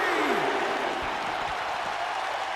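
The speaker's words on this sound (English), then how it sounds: "Crowd is absolutely losing its mind." A wrestling crowd roars and applauds in a continuous, dense wash of noise, loud and sustained, with a commentator's voice briefly cutting through.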